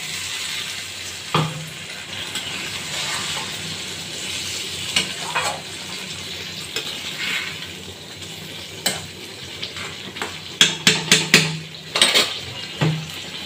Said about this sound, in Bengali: এবার আমরা যে মশলা ধোয়ার জল একটু দিয়ে দেবো।